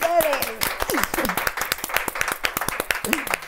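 Studio audience clapping on a talk show set, sharp irregular claps mixed with voices speaking over them throughout.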